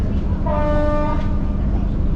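A passenger train rolls along with a steady, loud rumble of wheels and carriages, while a drawn-out horn-like tone sounds briefly over the noise early on.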